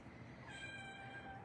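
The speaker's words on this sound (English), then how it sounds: "Kitty, we got a new cat" A cat meows for attention indoors during cold process soap making, a single drawn-out rising meow, faint and close against a quiet room, no speech.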